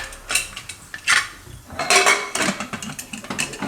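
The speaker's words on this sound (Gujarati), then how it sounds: "તો કુકરનું ઢાંકણ બંધ કરી દેવું." A pressure cooker lid is closed over a pot of rice and moong: a series of close, loud metallic clanks, scrapes and clicks come in irregular bursts, with no voices.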